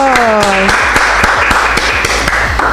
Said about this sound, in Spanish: yo quiero que le demos un fuerte aplauso